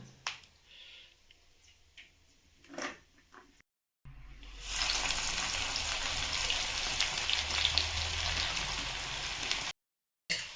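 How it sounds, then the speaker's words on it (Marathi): Finely chopped coconut fries in a pan for chivda, a steady crackling sizzle that sets in after a few quiet seconds of faint taps and clicks, broken by a brief silence near the end. "बारीक चिरलेला खोबरा ते पण आपण हलकासा फ्राय करून घेऊ"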